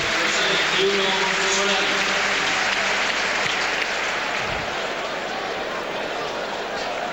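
A dense, continuous roar of applause fills a football stadium as Zidane is substituted in a Real Madrid v AC Milan Champions League quarter-final, with a commentator talking over it.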